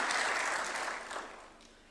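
Brief applause at a State House reception for the AFC Leopards football club, steady clapping from a gathered audience that starts full and fades away over about two seconds.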